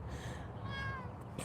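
Cats meowing indoors, a few short mewing calls rising over a steady background hum, close by and moderately loud.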